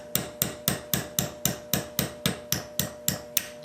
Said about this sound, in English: we'll punch this pin straight down through the slide,